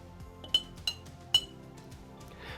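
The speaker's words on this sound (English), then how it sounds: "Then just giving this a gentle stir to melt the condensed milk" A spoon stirring condensed milk into Vietnamese drip coffee strikes the glass in three quiet, bright clinks, with soft scraping between them.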